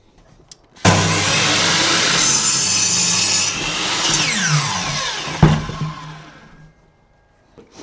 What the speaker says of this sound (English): I'm going to use the angle grinder to cut this to the right